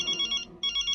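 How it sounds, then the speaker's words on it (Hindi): A telephone rings nearby in two quick, bright electronic bursts with a short gap between them, loud and clear with no voices. "जेठालाल का फोन?"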